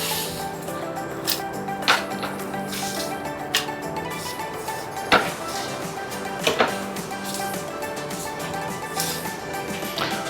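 Chopped onion and tomato are moved into a kitchen vessel, with scattered close knocks, clinks and soft scrapes at irregular intervals.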